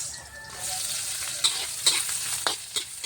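Garlic, onion and ginger sautéing in oil, a continuous close sizzle punctuated by several sharp scrapes and clinks of a utensil stirring in the pan, with no talk.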